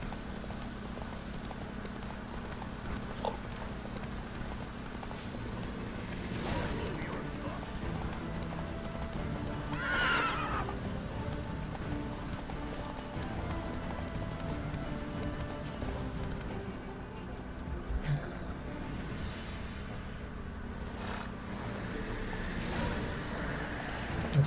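Hoofbeats of Geralt's horse Roach clop steadily through the Witcher 3 game world, a faint whinny rising briefly midway, over ambient game sound.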